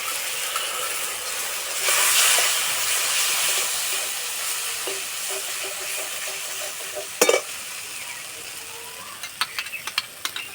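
Ground cashew paste goes into a pan of frying egg korma, a steady close sizzle that swells as it is added, followed by stirring and a few sharp clinks of a utensil against the pan.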